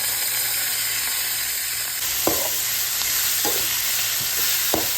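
Celery, lemon and sauce stirred in a hot frying pan with shrimp spaghetti in progress: a steady broadband sizzle runs throughout, broken by a few sharp scrapes of a utensil against the pan, close and fairly loud.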